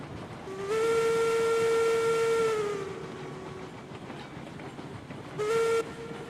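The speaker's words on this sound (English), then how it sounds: "I'm sorry if the whistles sound bad." A steam locomotive whistle in the video game Railroads Online sounds one long blast, then a short second toot, over the steady rumble of a moving train.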